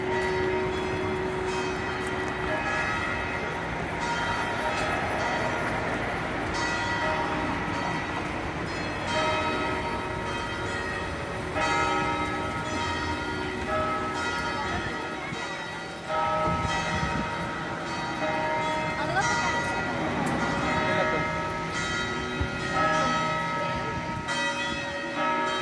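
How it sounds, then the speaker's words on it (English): Church bells ring out on a holiday night in San Antonio, Texas, a dense layered peal of tones sustained throughout amid a busy outdoor crowd and faint talk. "The bells are going off at the church."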